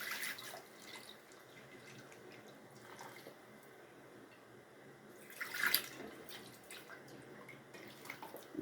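Water being poured into a pot of brinjal and drumstick curry for coconut milk kootu, a steady close trickling splash with a brief louder gush midway and no talk.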